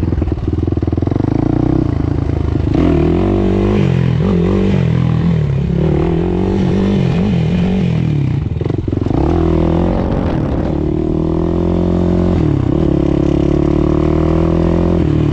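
A motorcycle pulls wheelies up a hill, its engine loud and close throughout, rising and falling in pitch with throttle changes and some clattering from the ride.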